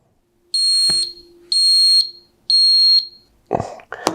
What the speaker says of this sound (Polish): teraz spowoduje, że czujnik zacznie nam piszczeć, zasymuluje zalanie